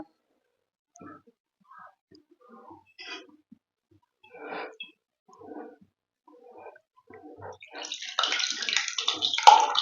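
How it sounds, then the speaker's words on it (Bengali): Leftover water poured off through a cloth to strain chhana (milk curds) for a milk kalakand sweet: a rushing, splashing pour starts late, after several seconds of faint scattered kitchen noises. "এরপর বাকি জলটা আমি ফেলে দিলাম তো কাপড়টা ভিজিয়ে নেওয়ার জন্য কিন্তু ভালো ছাঁকা যাবে এই ছানাটা"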